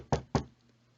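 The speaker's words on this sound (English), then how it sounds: "there comes a knock at the door" Two crisp knocks on a door, evenly spaced and fairly close, then quiet room tone.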